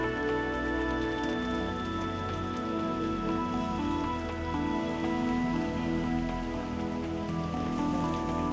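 Steady monsoon rain falls over a city neighbourhood, a dense continuous hiss of drops on surfaces under a tonal background hum, constant and close with no talk.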